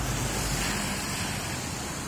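Water thunders steadily from a waterfall in the Jhelum valley of Azad Kashmir, making a dense, broad, continuous roar that fills the whole moment without any break or talk.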